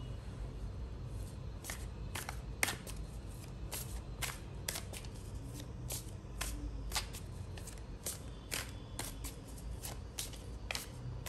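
A deck of tarot cards is shuffled repeatedly, sharp papery riffles and snaps recurring at a steady pace over a quiet room hum, close and fairly soft throughout.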